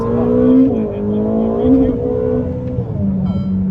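A 1000 hp Ferrari SF90 Stradale is driven hard on the Portimão race track, its engine note rising and falling through strong harmonic revs, loud and close, with people talking over it inside the car.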